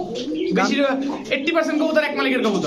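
Fancy pigeons at a pigeon market, such as Teddy, Shahranpuri, Golden and Budapest breeds, coo softly and repeatedly in the background while someone talks over them throughout.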